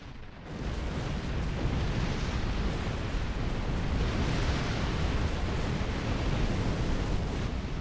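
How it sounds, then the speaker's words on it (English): Explosive charges detonating on a planet's surface in Star Trek Online, heard as a loud, sustained roar of blasts and rumbling that fills the whole span without pause, with no voices. "The charges on the surface are ready to detonate. Blow them up!"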